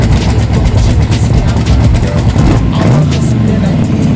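A loud, rumbling idle from a custom car named Pac-Man at a cruise event, fitted with a rear parachute, with a rough, lumpy low throb and a brief rev near the end amid crowd noise.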